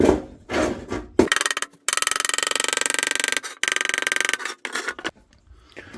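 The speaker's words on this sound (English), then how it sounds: "Now I need to just hammer that down a little bit" Sheet metal on a model teardrop camper being hammered down with rapid, even taps in two close sustained bursts, then a few scattered knocks, loud and near with no talk.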